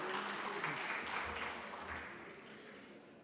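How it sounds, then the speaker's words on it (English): Audience applause at a student support services gathering, a steady wash of clapping from a hall crowd that holds for a few seconds and slowly thins out. "Give him a round of applause,"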